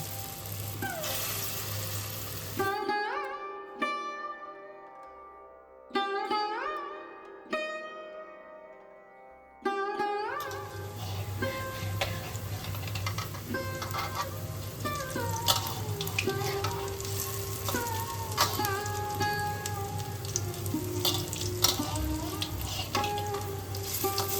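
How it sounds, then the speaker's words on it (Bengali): Matar dal fritters frying in smoking-hot mustard oil in a kadai: a steady, moderately loud sizzle that runs continuously under melodic background music. "এবার আমরা মটর ডালের বড়াগুলোকে ভেজে নেব।"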